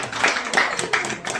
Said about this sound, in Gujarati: ચલો બધા તાળી પાડ દો.